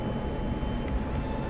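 An F-16 Viper jet engine spooling at power in DCS, a steady broadband roar filling the whole clip with constant loudness and no talking over it.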